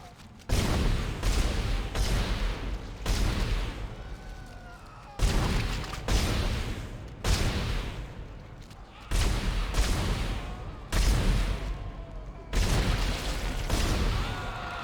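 Repeated gunfire bursts in the sci-fi horror game Dead Space, loud and close, coming in about nine separated volleys with short gaps, over a dense game soundscape.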